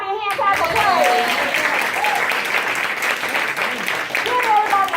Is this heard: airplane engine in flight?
no